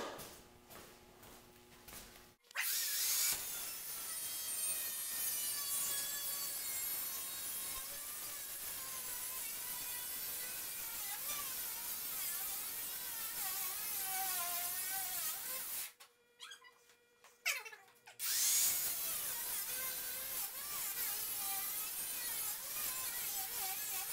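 Two sheet-metal door skin pieces are cut together with a power cutting tool, a loud, steady, harsh grinding whine running for long stretches, broken by a couple of short pauses.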